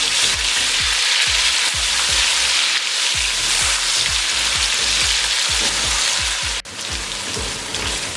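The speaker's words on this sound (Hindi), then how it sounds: "इसको 2 मिनट के लिए हम भून लेंगे।" Tomatoes, green chillies and ginger paste fry steadily in a pan, a dense continuous sizzle with crackling bursts and rhythmic stirring scrapes, close and fairly loud with no voices.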